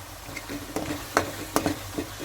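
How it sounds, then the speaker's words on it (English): Cashew paste being stirred into a sizzling gravy: soft, quiet scraping strokes and light clicks of a spoon against the pan over a low frying hiss, close up with no talk. "Slowly add it and then give it a good stir."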